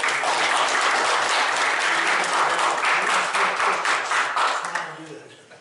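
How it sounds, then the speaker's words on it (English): A crowd at a county Republican Party meeting claps in steady, dense applause that holds for several seconds, then tapers off toward the end. "Let's give him a round of applause."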